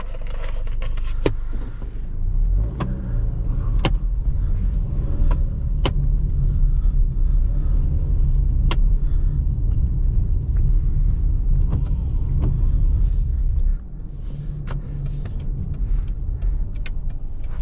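A 2006 Toyota Corolla LE with an automatic transmission drives along in a loud, steady cabin rumble of engine and road noise, with occasional sharp clicks and rattles inside the car and a slight drop in level near the end.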